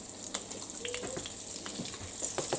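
Butter sizzling in a pan of goat meat juices, a steady bright frying hiss with small pops and crackles throughout.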